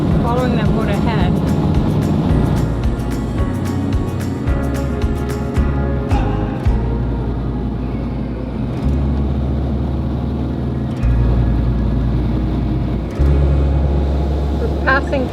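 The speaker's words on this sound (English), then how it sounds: "The engines are pretty quiet on this boat" Steady low engine drone of a Riviera cruising motor yacht running at about 34 knots, fairly loud and constant, with a person talking over it.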